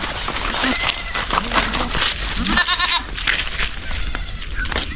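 Goats on a farm bleat again and again, several overlapping calls close by, loud over a noisy outdoor background.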